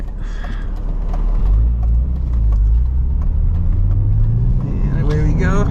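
A 1999 BMW M Coupe pulls away hard, its engine note rising through a long acceleration close by, dipping briefly at a shift before climbing again; a voice is faintly present.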